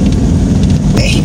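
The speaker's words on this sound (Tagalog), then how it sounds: "Inabutan kami ng ulan." Heavy rain drums steadily on a Toyota Hiace van on a mountain road in Tinoc, with a dense, loud roar and rumbling low-end wash heard from inside the vehicle.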